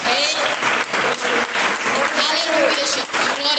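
A church congregation claps together in steady, dense applause at a worship service, loud and sustained, with voices calling out over it.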